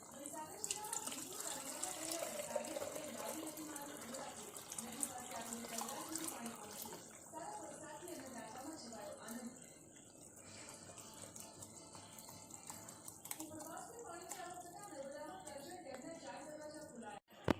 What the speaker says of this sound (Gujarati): હવે આને ગાળણી મૂકીને બરણીમાં લઈ લઈએ ગાળીને